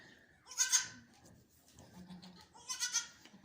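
A goat bleats twice, a few seconds apart, fairly close, with quiet background noise and a faint voice between the calls, around the time it gave birth to twin male kids.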